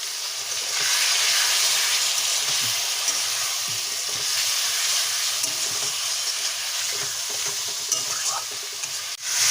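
A little water hits a sizzling vegetarian vegetable curry in a pan, giving a loud, dense, continuous hiss and sputter that holds steady throughout, with faint stirring scrapes and no voices.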